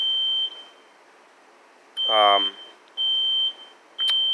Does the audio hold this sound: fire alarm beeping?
yes